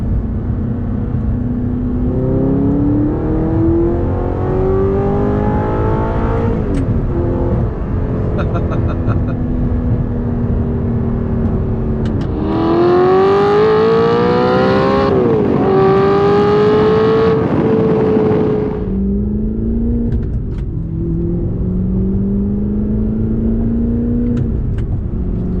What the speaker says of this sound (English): Give you guys a little acceleration here.